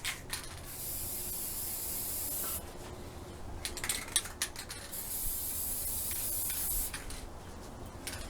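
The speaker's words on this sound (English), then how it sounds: "Okay, I'm going in for one more spray." Spray paint hissing from an aerosol can onto a Dollar Tree glass jar, in steady close bursts of a few seconds each separated by short pauses, with faint rattling between sprays.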